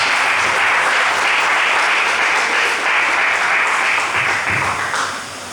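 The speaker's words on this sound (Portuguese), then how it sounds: "dê uma linda salva de palmas para Jesus" A church congregation at an Easter service breaks into loud, sustained applause for Jesus, a dense wash of many hands clapping that holds steady and then tapers slightly at the end.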